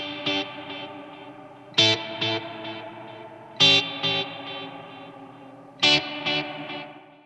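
Four sharp, distorted guitar strums ring out at regular intervals through series-chained delay and reverb effects, each followed by a long trailing echo and reverb tail that fades slowly.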